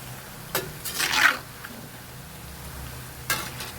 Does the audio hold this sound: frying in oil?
yes